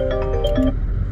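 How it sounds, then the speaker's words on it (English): Mobile phone ringtone playing a short melodic phrase of bright tones, fairly close and clear over a low background rumble, lasting about a second. "That's my phone now."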